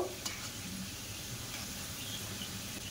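Palm-fruit kala jam sweets made with semolina frying in hot oil, a steady soft sizzle with light crackle running throughout, close and continuous, no voices.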